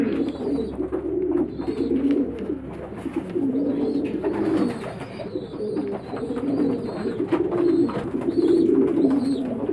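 Homing pigeons coo in a soft, throaty, repeated rolling rhythm, several birds close together amid low background rustle.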